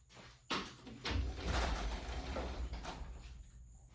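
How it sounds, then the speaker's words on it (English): A garage door is pulled open, starting with a sharp clunk and moving into a loud rumbling, rattling slide that lasts several seconds before fading, nearby with no talk. "Let me open the garage door a little bit before I pass out."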